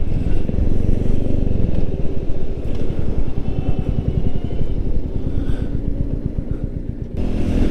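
A Royal Enfield Meteor 350 motorcycle on a test ride, its single-cylinder engine thumping steadily and close up with wind rush, loud and continuous for the whole stretch before easing off briefly near the end.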